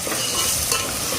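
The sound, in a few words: ginger garlic paste stir frying in biryani masala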